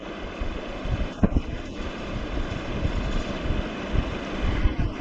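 A blower drives a test rig for a wind generator, giving a steady broadband whooshing roar with a few brief knocks and clicks, close and continuous, no voices.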